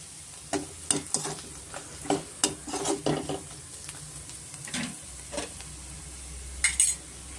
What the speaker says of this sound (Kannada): ನಾನು ಫ್ರೈ ಮಾಡ್ಕೊಂಡು ಇಟ್ಕೊಂಡಿದ್ದೀನಲ್ಲ ಕಡಲೆಕಾಯಿ ಅದನ್ನು ಸೇರಿಸ್ಕೊಳ್ತಾ ಇದ್ದೀನಿ